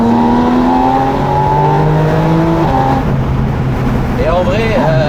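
Porsche 718 Spyder RS engine revving steadily while driving, a loud continuous drone with rising and falling tones and a shift near the middle, heard from inside the car with talk mixed in.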